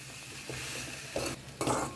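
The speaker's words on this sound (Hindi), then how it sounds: "अब इसमें डालते हैं फ्राई किए हुए ब्रेड। अब अच्छे से इसे मिक्स करें।" Fried bread pieces being stirred into a cooked masala in a pan, a soft continuous sizzle broken by a couple of brief scraping stir strokes, close by.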